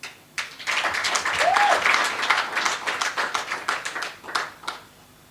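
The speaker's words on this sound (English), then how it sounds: "can we please give her a round of applause?" An audience applauds a speaker at a South African public service union launch: dense, steady clapping from a crowd that swells quickly and tapers toward the end, with a brief whistle or shout rising through it.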